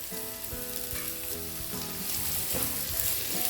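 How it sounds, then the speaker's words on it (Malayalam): Chopped onion frying in a pan with ginger, garlic and green chilli for a Hyderabadi chicken curry: a close, steady crackling sizzle with occasional stirring, growing slightly louder toward the end, with a faint tonal hum beneath. "ഇനി ഇതിലേക്ക് ചെറിയ കഷ്ണങ്ങളാക്കിയ വലിയ ഉള്ളി ഇട്ട് കൊടുക്കുക."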